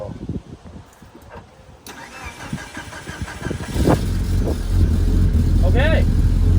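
A Mitsubishi Evo 8 cranks over and catches after a fuel pump install, settling into a loud, rough cold-start idle close by, with people talking over the starter and engine.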